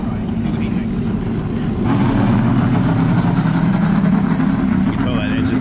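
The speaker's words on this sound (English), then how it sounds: "You can tell that engine is just mad." A 1988 Monte Carlo NASCAR Aerocoupe race engine idles with a loud, lumpy rumble that steps up slightly partway through and keeps running on, with people talking over it.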